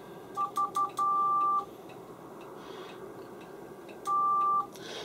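Short CW Morse tones from a Xiegu G90 QRP transceiver feeding a dummy load: a few quick beeps, one longer dash, a pause, then another long steady tone, clean and fairly loud over low hiss.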